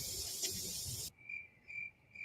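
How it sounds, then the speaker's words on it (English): Crickets chirp in a hushed setting: a dense, continuous trill that cuts off abruptly, followed by a few sparse, faint chirps. "Crickets."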